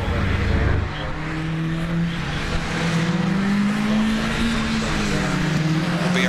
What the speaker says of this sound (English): You can hear the engines rise.